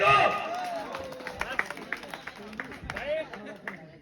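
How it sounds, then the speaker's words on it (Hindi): Clapping and crowd noise at a village auction, a brief burst of applause at the start fading into scattered claps and babble, with people talking loudly throughout. "जोरदार ताली दियो"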